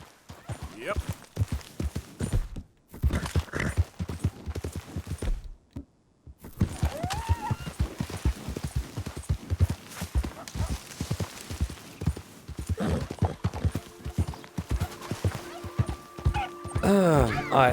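A horse's hooves clip-clop in the Red Dead Redemption video game, rhythmic hoofbeats running through most of the stretch under frequent talk, with a brief whinny and some game sound effects near the end.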